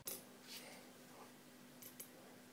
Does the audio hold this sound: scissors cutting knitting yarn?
yes